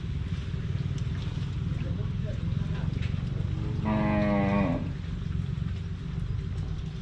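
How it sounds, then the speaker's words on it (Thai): Burmese cattle bought for short-term fattening low out once in a single drawn moo of about a second, over steady rain and outdoor background noise. "นี่ครับ เป็นวัวพม่าครับ"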